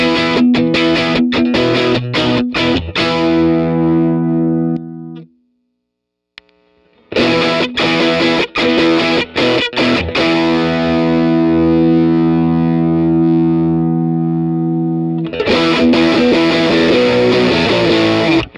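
A Reuss Swiss Army Knife pedal pushes an electric guitar into gnarly overdrive: loud, sustained distorted chords ring out, a brief silent gap near five seconds, then more thick driven strums and held notes.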